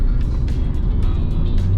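A 2001 Chevrolet Corvette C5 V8 rumbles loudly and steadily up close, with repeated short throttle blips rising over the low exhaust drone, no talking.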